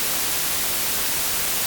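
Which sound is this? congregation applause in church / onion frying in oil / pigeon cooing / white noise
white noise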